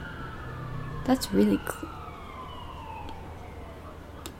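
An emergency vehicle siren outside wails faintly and slowly falls in pitch, with a person briefly speaking over it partway through.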